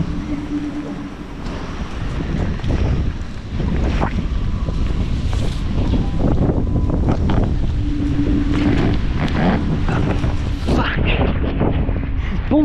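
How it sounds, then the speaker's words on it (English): Strong wind roars and buffets the microphone on a sailboat as a squall approaches, a loud, continuous rush with gusty surges throughout. "Bloody windy up here."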